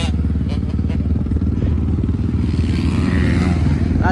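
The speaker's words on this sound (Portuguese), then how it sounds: "Olha o Rio, esse aí acelera, ó." Motocross motorcycle accelerating at a race in Boa Esperança, Paraná, a loud buzzing engine drone with rapid pulsing close by, while someone talks over it.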